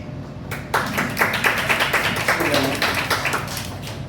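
Audience at a poetry reading breaking into clapping, a quick burst of close, dense applause that carries on steadily for several seconds with a voice underneath.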